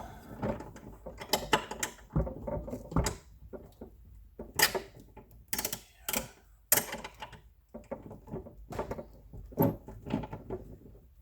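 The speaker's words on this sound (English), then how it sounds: "Let's just torque it up and wipe it down." A ratchet tightens the bolts on a skate blade, giving sharp close clicks and pawl ratcheting in irregular bursts with short pauses between them.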